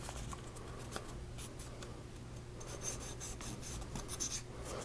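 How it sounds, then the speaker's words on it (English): A small cleaning pick scrubs inside the firing pin channel of a Ruger-57 pistol, making close, dry scratchy rasping strokes in quick irregular bursts, with no voices. "See how that pick is really getting in there?"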